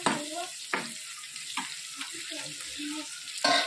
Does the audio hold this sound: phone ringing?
no